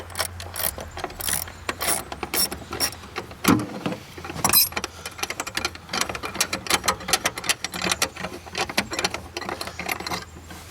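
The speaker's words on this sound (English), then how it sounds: "we'll undo that 10 mil nut. That's the battery hold down clamp that we're currently undoing" A ratchet undoing the 10 mm battery hold-down nut on a 1991 Mazda Miata, giving rapid close clicking and metallic ticks in uneven bursts, with no talking.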